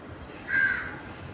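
A crow gives one short, harsh caw near a spot where biscuits are set out for birds, standing alone against a quiet background.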